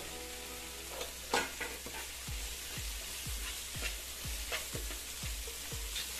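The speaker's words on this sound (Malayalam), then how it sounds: "ഇത് നന്നായിട്ടൊന്ന് വഴറ്റിയെടുക്കാം" Tomatoes sauté in a pan with a steady nearby sizzle, overlaid by a regular run of dull thumping stirs and scrapes as the spatula turns them, with no voices.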